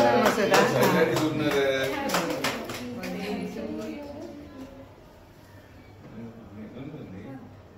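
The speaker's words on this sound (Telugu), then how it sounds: "క్లాప్స్" A short round of clapping from a small group at a staff birthday celebration, loosely rhythmic at first and then fading out, mixed with people talking.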